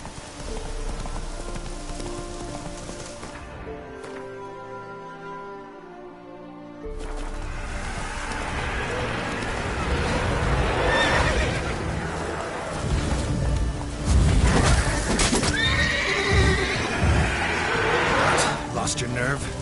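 Roach, a horse in Witcher 3, gallops with steady clip-clop hoofbeats that come in after a brief quiet stretch and grow louder under game music and rustling, while a voice talks over it.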